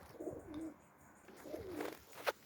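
Pigeons cooing near a loft, several soft throaty coos in short rising-falling phrases, close by, with a sharper call near the end.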